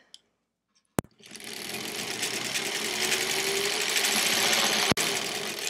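Sewing machine stitching quilt pieces starts after a sharp click and runs in a steady, fast mechanical whir for several seconds, close and clear, with another click near the end.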